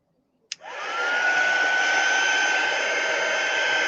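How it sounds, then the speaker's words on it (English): A hair dryer blowing over a watercolor painting switches on with a sharp click, then ramps up into a loud, steady, close whir that holds unbroken to the end. "I'm going to use my dryer again"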